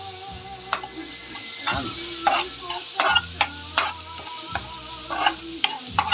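Garlic and onion sauté in a pan with a continuous sizzle, punctuated by repeated scraping strokes of a spatula stirring; a voice briefly speaks over it.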